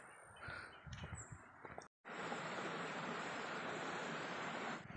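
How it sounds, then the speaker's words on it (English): The Kang Tilang So waterfall gives a loud, continuous broadband rush of falling water that fills the scene after a few seconds of brief handling noises and a sudden cut. "Welcome to Kang Tilang So Waterfall."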